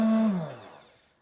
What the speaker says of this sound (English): now we're going to use a stick blender and blend this up